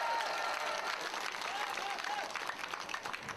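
Audience applause at a Korean political rally for presidential candidate Kim Moon-soo, steady dense clapping from a crowd that fills the whole moment without pause, fairly distant and moderately loud.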